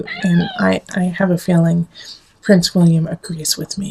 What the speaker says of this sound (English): And you can hear our little kitty talking to you too.